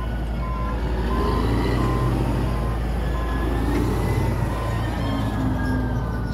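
A quarry truck in Somerset reverses with steady repeating beeps over a loud, continuous diesel engine rumble, close by and without talk.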